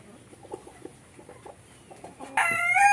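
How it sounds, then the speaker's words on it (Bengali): A white Brahma rooster clucks softly in a few low, scattered notes, then breaks into a loud, close crow that carries to the end. "এটা একটা মোরগ একদম হোয়াইট কালার"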